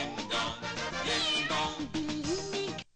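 A cat meows loudly and repeatedly, drawn-out wavering cries close to the microphone, with no talking.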